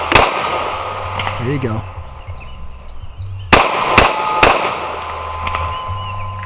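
A Sig P365 pistol fires quick shots at steel targets on a range, each sharp report followed by a ringing metallic clang; a burst near the start and two more cracks later, with a brief spoken remark between.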